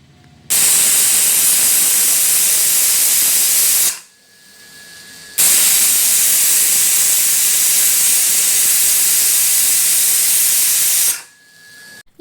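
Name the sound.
pressure cooker whistling and releasing steam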